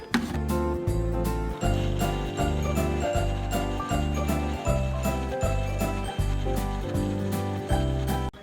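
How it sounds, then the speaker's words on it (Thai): Sweet red beans simmered with sugar are ground in a blender, a loud, close mechanical whirr pulsing in a steady repeating rhythm for several seconds, with no talking. "ถั่วแดงที่เคี่ยวกับน้ำตาลแล้วลงไปบดในถุงปั่นค่ะ"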